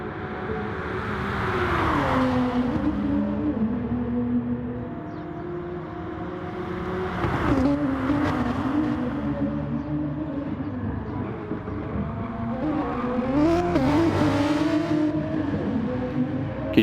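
Gr.3 race cars scream down the straight at the Sardegna road track in a racing video game, engines revving up and shifting gears in rising and falling whines, packed close together, with no talk.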